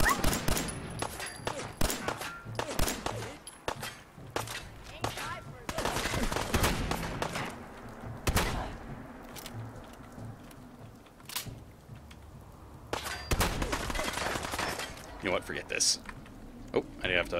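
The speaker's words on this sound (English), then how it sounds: "I think we may have to do a little bit of range shooting here." Gunfire during ranged shooting in the video game Fallout 4, repeated sharp shots in clusters with pauses between, mixed with game clatter and a person talking intermittently.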